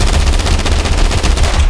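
Rapid automatic gunfire rattles in a fast, even burst of shots, loud and close, with no voices over it, in GTA V.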